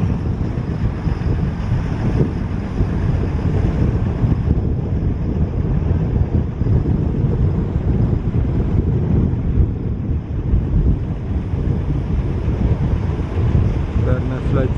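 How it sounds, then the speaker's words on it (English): Steady wind blowing across a boat launch at a gully, a continuous loud rumbling roar with microphone buffeting that holds throughout, with no other distinct sounds standing out. "wind is starting to blow"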